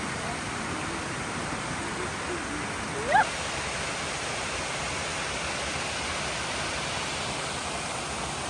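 Steady broadband rush of a waterfall at Waterfalls State Park in West Virginia, continuous and even throughout with one brief soft bump partway through.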